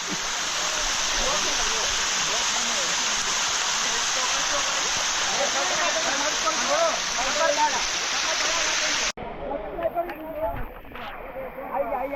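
A loud, dense downpour of heavy monsoon rain in the Girnar hills hisses continuously, then the sound shifts abruptly near the end to a thinner patter.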